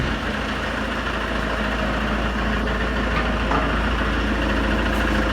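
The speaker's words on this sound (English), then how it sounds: "All you can hear at the moment is the engine." A Ford Mondeo's engine idles steadily, a continuous low rumble with a faint higher whine, alone and unbroken with no talking.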